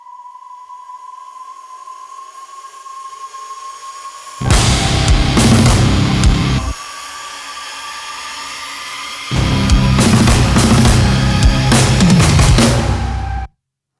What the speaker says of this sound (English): I think I layered a second riser in there.